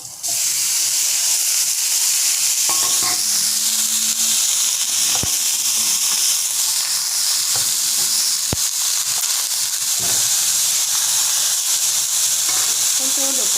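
Broccoli sizzles and stir-fries in a hot pan with red chilli, a dense steady hiss of frying with occasional knocks and scrapes of stirring, close and continuous.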